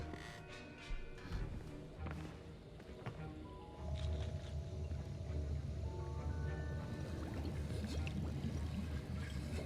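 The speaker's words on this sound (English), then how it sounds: "Stir, stir, stir. Stir that cauldron." A potion cauldron in a Harry Potter video game is stirred, with liquid sloshing, pouring and bubbling sounds that grow steadier and louder halfway through, alongside soft game ambience.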